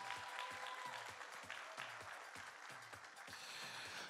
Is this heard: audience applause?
yes